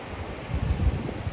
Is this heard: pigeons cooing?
no